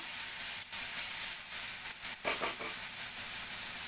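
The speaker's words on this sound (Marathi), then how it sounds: "तो पण आपण याच्यामध्ये घालून थोडा परतून घेऊया" Steady sizzling from a pan as coarse green chilli paste fries, with a brief louder crackle midway; no voices.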